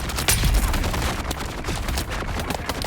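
Gunfire in the video game Dune Awakening, a dense, loud, rapid run of shots that continues throughout with no talking.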